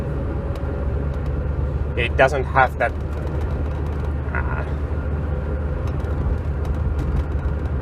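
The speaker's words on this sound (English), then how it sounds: "the engine, it sounds as good as a four-cylinder engine can sound" A Lancia Delta HF Integrale four-cylinder engine idles with a steady low rumble, held constant throughout while someone talks over it.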